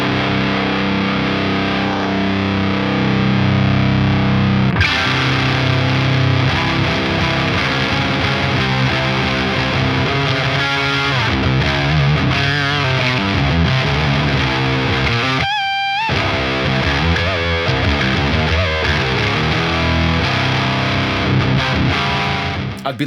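Electric guitar driven through a BOSS HM-2w distortion pedal, a thick buzzing saw-like tone of sustained chords and chugging riffs, loud and continuous, with one brief dropout near the middle and no talking.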